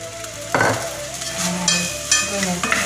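Millet bihun noodles being stir-fried in a pan after dark soy sauce and seasoning go in, with a steady sizzle and a few clear bursts of scraping and tossing from the spatula.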